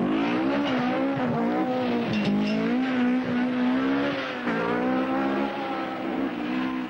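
Walter Röhrl's rally car on a loose stage of the 1976 RAC Rally, shortly before breaking a half shaft, its engine loud and close, pitch rising and falling through gear changes and revving with no voices.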